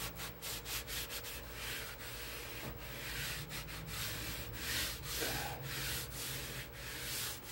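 Old varnish is rubbed back and forth off a wooden 1948 Motorola radio cabinet, making a rhythmic, close scratchy sanding sound in regular strokes under a low background hum; no voices are heard.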